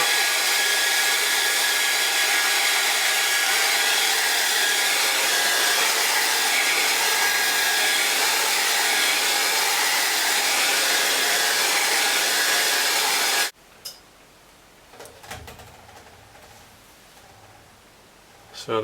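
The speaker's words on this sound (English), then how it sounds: "Just going to blast the air dry on that." A hair dryer blasts steadily at full power for about thirteen seconds, a loud, close, unbroken rushing roar, then cuts off abruptly, leaving faint handling noises.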